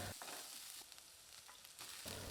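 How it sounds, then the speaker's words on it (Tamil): Small onions and green chillies sautéing in a pan give a steady close sizzle with brief stirring scrapes, quiet and with no talking. "இப்போ வெங்காயம் பச்சை மிளகாய் நல்லா வதங்கிடுச்சுங்க"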